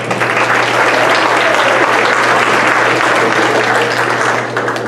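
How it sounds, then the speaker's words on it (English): A large crowd claps loudly and steadily for several seconds at a county dugout club awards ceremony, the applause fading only slightly at the end. "Give yourself a round of applause."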